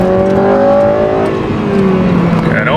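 Honda Civic Si engine revving hard into VTEC, a loud close whine that climbs steadily in pitch, then shifts and keeps rising toward the end.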